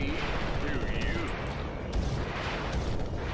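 Weapon fire from the Ratchet & Clank HD Collection during a flying ship section over Olantis, a dense continuous barrage of game blasts and booms under a busy mix of music and effects.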